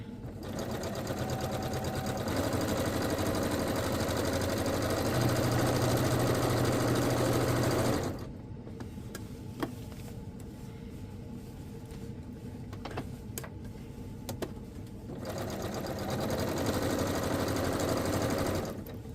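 A home sewing machine stitches dress fabric in a steady, fast hum for about eight seconds. It pauses with a few soft clicks and handling noises, then starts stitching again near the end.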